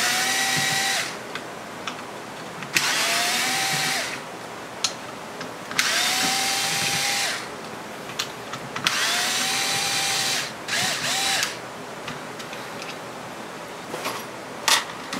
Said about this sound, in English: I totally have an electric driver